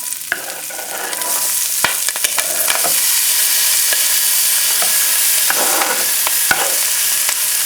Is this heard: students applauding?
no